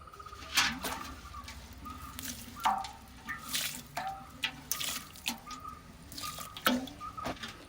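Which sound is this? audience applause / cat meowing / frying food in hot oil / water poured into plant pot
water poured into plant pot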